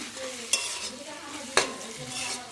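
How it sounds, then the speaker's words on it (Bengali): Aubergine slices frying in fish oil in a pan, a steady low sizzle broken by two sharp clatters of utensil against pan, no voices. "মাছের তেল দিয়ে বেগুন ভাজা"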